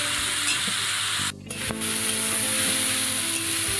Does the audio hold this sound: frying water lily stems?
yes